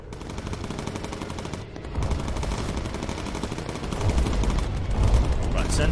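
Rapid machine gun fire from a bomber's gunners aimed at Stuka dive bombers in the video game Bomber Crew, a continuous dense rattle of bursts layered over engine drone, growing louder toward the end.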